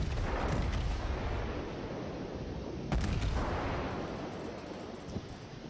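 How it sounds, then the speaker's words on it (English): Battleship New Mexico's main guns fire in World of Warships: a broad, booming broadside roar at the start and a second heavy blast near the three-second mark, each rumbling out into a sustained low wash with no talk. "Now I'm going to go ahead and take a shot at this battleship."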